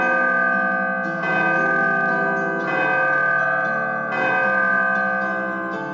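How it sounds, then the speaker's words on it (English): A temple-style bell in a visual novel game tolls three times in a slow, even rhythm, each loud strike ringing out with a long, shimmering tonal decay that overlaps the next. "It's the sound of the bell announcing Asa."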